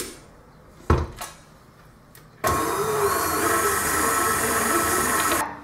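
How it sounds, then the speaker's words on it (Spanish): An electric mixer whirs steadily, whipping butter, sugar and honey into batter for a pancake cake; a few knocks and clatters come first, then the motor starts abruptly and runs loud and even for about three seconds before stopping. "Y ahora le echamos la miel. Y empezamos a batir."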